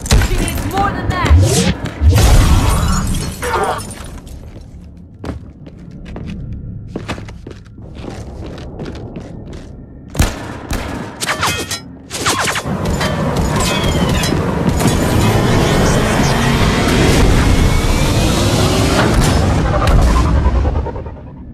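Covering gunfire in the Mass Effect 3 video game: bursts and heavy impacts hit loudly and repeatedly in scattered clusters, then fill the second half as a dense, sustained barrage, with voices talking over the combat.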